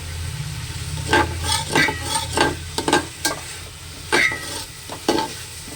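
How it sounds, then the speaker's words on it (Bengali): Rice and lentils fry in a pot for a cauliflower khichuri while a spoon stirs them in a run of scraping strokes over a soft steady sizzle, close and fairly loud, without speech. "এইভাবে ডালের সাথে চালটা ভালোভাবে মিশিয়ে নিতে হবে"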